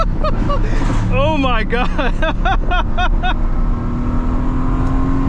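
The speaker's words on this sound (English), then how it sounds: "We have Henry here in the AMG GTS with GTR turbos. It sounds crazy." Tuned 2017 Mercedes-AMG GT S fitted with larger GT R turbos accelerating on a highway with the windows down, a loud steady engine roar filling the cabin while people exclaim and talk excitedly over it.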